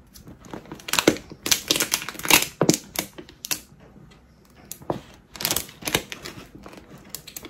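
Vinyl being peeled slowly off a holographic duffle bag, giving close, crackly bursts of tearing and crinkling with short pauses between pulls.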